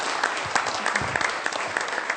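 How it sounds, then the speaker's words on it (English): An audience applauds a speaker named John Nykolaiszyn at RecruitFest 2010, steady dense clapping filling the whole moment at close, fairly loud level with no talk over it. "Round of applause for John Nykolaiszyn."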